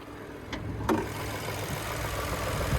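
Buick Encore GX with a 1.3-liter turbocharged three-cylinder engine idling, a steady low hum with a couple of faint clicks early on, heard alone with no talking.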